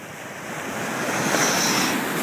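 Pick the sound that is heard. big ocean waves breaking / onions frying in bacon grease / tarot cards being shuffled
big ocean waves breaking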